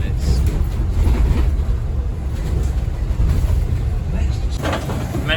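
Steady interior rumble of an M1 bus riding through Bournemouth toward the train station, a continuous loud low engine and road drone with faint voices underneath.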